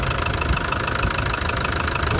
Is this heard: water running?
no